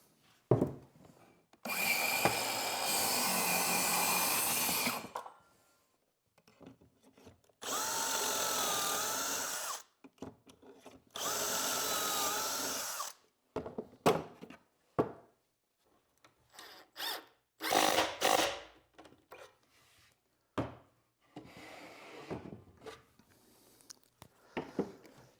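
A circular saw cuts filler strips for a shop cabinet in several loud bursts of whining blade through wood, separated by pauses with handling clicks and knocks.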